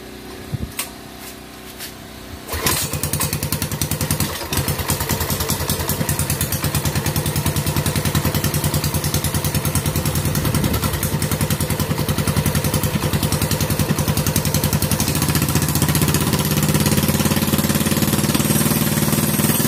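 Motorcycle engine with the choke open catches after a brief quiet stretch and then runs continuously, a loud, busy, clattering idle with a rough steady pulse that persists to the end.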